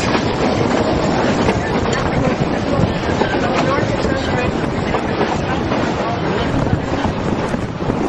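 A Durango and Silverton steam train from the 1930s rolls past as a loud, continuous roar of rail noise with steady rumble and wind buffeting the microphone, dense and unbroken throughout.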